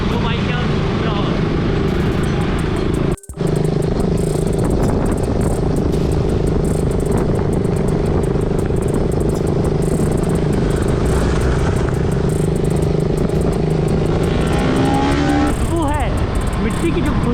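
Motorbikes on a group ride along a rural road near Sarangarh, with a continuous engine drone and wind rumble throughout, a brief dropout, and another bike's engine faintly rising and falling near the end.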